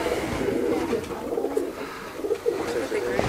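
Racing pigeons cooing inside a loft in Atlanta, Georgia, a steady murmur of overlapping low coos from several birds close by, with faint rustling in the background.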